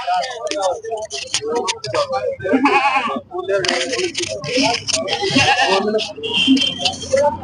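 Goats of mixed breeds bleat loudly and repeatedly at a village goat market, with overlapping calls from several animals close by and people talking and laughing among them.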